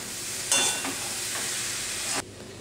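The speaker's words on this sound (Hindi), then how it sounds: "यहाँ पे ये कैबेज की सब्ज़ी बन रही है" Cabbage sabzi, already tempered, cooks in a pan with a steady, close hiss of sizzling. One louder burst of frying noise stands out in the middle.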